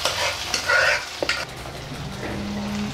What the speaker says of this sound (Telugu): ఇప్పుడు ఇదే గిన్నెలో మనం ఇందాక కలిపి పెట్టుకున్న అన్నం మిశ్రమాన్ని ఇందులో వేసుకుందాము.